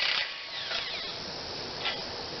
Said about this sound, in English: First you've got to break the jam nuts loose on the bottom, which I'm using an impact.